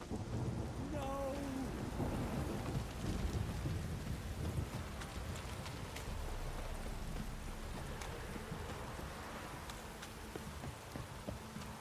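Heavy rain in The Witcher 3: Wild Hunt pours steadily with a low rumbling undertone, constant and enveloping, with no talking over it.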